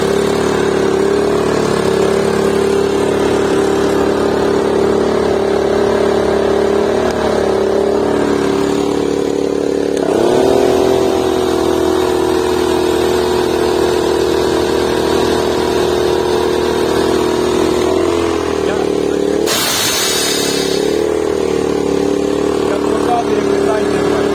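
A Daewoo DAIG 3000 S inverter generator runs under load with a loud, steady engine hum. Its pitch shifts partway through, then settles again, with a brief hissing burst near the end.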